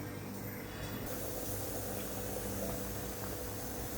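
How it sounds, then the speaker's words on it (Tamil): A pot of egg curry with drumstick and potato bubbling and simmering at a steady rolling boil. A continuous hissing, seething bubble runs throughout with no talking. "குழம்பு கொதிச்சிருச்சு"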